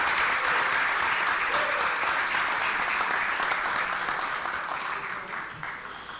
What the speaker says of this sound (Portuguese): Uma salva de palmas aos vereadores do sul de Santa Catarina.